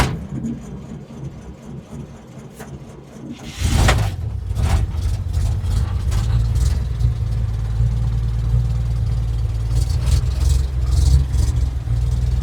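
A cold 1947 International truck engine cranks and catches with a loud burst, then settles into a rough, uneven idle, its steady low rumble broken by irregular misfire pops and stumbles close by.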